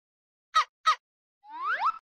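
Two quick, bright yips from a cartoon puppy in a children's sound-guessing game, evenly spaced and close, followed by a rising whistled jingle.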